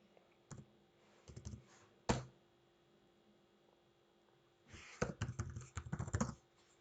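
Keys on a computer keyboard are tapped slowly, first in scattered single clicks and then in a denser quick burst near the end, faint and close against a low steady hum with no talk.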